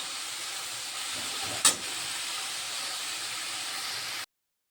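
Leafy greens steaming in a pot, a steady soft hiss with one brief louder burst partway through, then a sudden cut to silence near the end.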